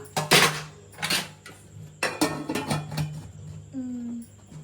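Metal pots and a lid clatter and clank close by in several sharp knocks, ending in a ringing metallic tone as a lid settles on a pot.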